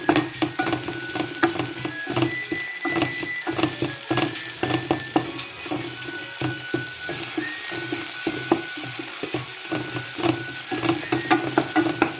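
Tomatoes sauté in a pan for a squid and potato curry, a close, steady sizzle broken by repeated scraping stirs of a spoon, with no talk.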